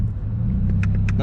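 A Scion FR-S sports car engine hums low and steady from inside the cabin during a heel-toe downshift, with a few faint clicks over the rumble.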